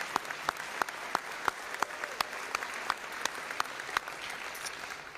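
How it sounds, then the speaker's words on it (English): Audience applause at a school board of education meeting, a moderate, fairly distant patter of clapping from a room of people with a few sharper individual claps standing out, steady for several seconds. "Please stand so everybody knows who you are,"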